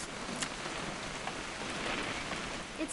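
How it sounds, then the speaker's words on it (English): Steady rain falls and patters across surfaces outdoors during a weekend hunting trip, a dense, even hiss with scattered drops and no voices. "It's gonna rain the whole weekend, isn't it?"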